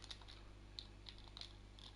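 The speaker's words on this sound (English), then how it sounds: "sorry about the long typing" Typing on a computer keyboard during a live sim racing broadcast, a run of light irregular key clicks over a steady low electrical hum, quiet and close, with no talk.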